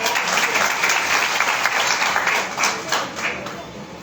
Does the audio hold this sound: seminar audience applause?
yes